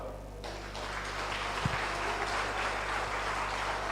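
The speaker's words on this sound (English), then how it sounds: "Give the councillors them a clap." Steady applause from a crowd at an outdoor political rally in Clarendon, Jamaica, continuous clapping that stays fairly even throughout, heard from a short distance.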